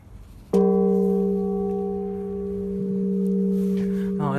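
A church bell is struck softly with its clapper, giving one clear strike that rings out with a long, sustained humming tone before a second strike near the end.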